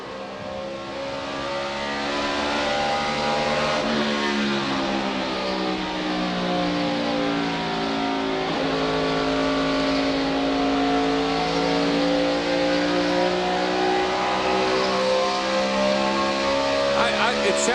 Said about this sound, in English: I just asked the car chief, Jason Shapiro, if he'd lost a cylinder, because that's what it sounds like.